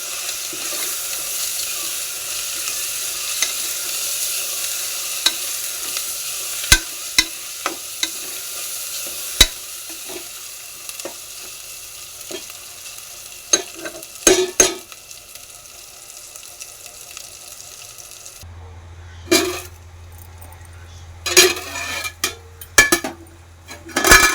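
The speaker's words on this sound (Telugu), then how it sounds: "పసుపు, అల్లం వెల్లుల్లి పేస్ట్ వేసుకొని కాసేపు ఫ్రై అవనివ్వాలి." Turmeric and ginger-garlic paste fry in oil for Telangana-style boti curry, a steady close sizzle with occasional sharp spoon scrapes and clicks, turning to clustered stirring knocks near the end.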